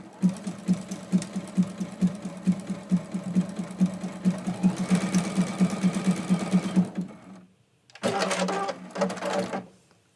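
A home sewing machine stitches a zigzag on a quilted mug rug, its close, rapid mechanical chatter running steadily and speeding up before a short pause, then resuming in a brief burst.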